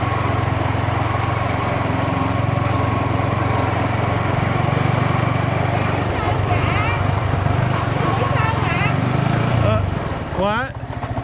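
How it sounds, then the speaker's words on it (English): A small moped engine drones steadily nearby, a puttering motor that fades near the end as faint voices come through, on a road in Vietnam. "There's a moped behind us."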